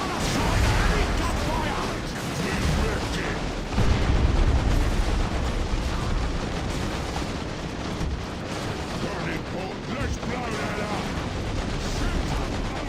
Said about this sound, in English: Oh, grenade time. Throw grenades in there.